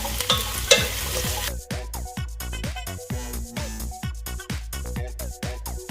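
Garlic and vegetables sauté in a pan for a light chicken curry, a hissing sizzle at first, then repeated sharp stirring knocks and scrapes in a quick irregular rhythm, close and clear with no talk.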